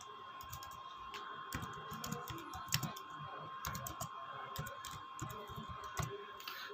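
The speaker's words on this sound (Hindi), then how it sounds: "अब यहाँ पे कुछ भी हम टेक्स्ट टाइप करते हैं" Keys clatter on a computer keyboard while text is entered in Microsoft Paint, a steady run of light, close clicks with no talking.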